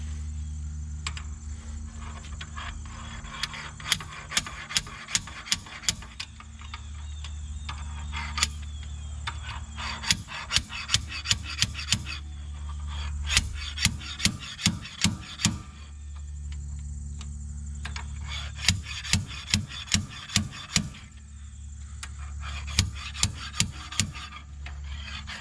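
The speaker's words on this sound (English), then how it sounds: "This is my new slide hammer tool." A slide hammer working at an axle seal on a Camaro, its weight clacking sharply against the stop in quick bursts of repeated metallic hits, separated by pauses, over a steady low hum.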